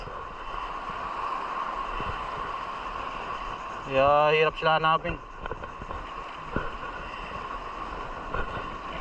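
Big ocean waves at a coastal fishing spot in Palawan, Philippines, a continuous low roar of surf and wind running throughout, briefly overlaid by someone speaking near the middle.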